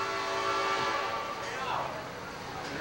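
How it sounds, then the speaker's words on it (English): An Amtrak passenger train bound for St. Louis passes close by, its horn blaring over the rumble of rolling cars, loud and continuous for the whole stretch. "That's Amtrak coming through for St. Louis."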